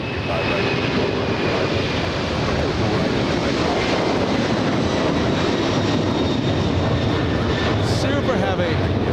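A heavy jet airliner rolls down the runway at LAX with a loud, continuous engine roar and rush. A voice speaks briefly over the sound.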